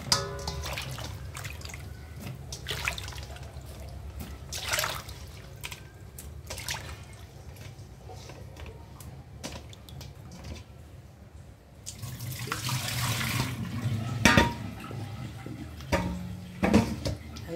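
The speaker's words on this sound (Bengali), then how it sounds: "এখন এটাকে চালনিতে শুকাইতে দেবো, পানিটা ঝরতে দেবো আর কি।" Water draining from salted, washed hog plums set in a colander, a soft continuous trickle with scattered drips, growing louder and splashier toward the end.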